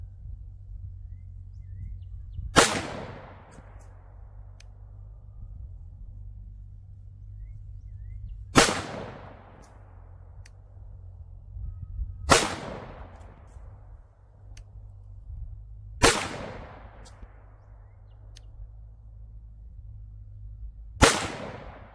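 Five sharp pistol shots from a Palmetto State Armory Rock 5.7, each a loud crack with a decaying outdoor echo, spaced several seconds apart over a low steady background rumble.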